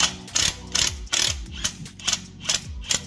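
A ratchet wrench cranking down a rear trailing arm bushing on a 4th or 5th generation Honda Prelude, with seven or eight loud, close, evenly spaced clicking strokes.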